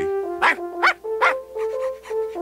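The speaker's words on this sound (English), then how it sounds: "Didn't you hear Odie wanting to be let in?" A cartoon dog barks outside, wanting to be let in: five short, sharp yips in a steady rhythm, moderately loud, with no talking.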